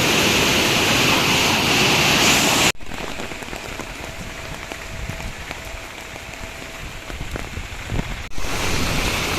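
Swollen river water rushes under a high bridge during heavy rain in Kerala, a loud continuous roar of water that drops briefly to a quieter wash in the middle before returning at full strength.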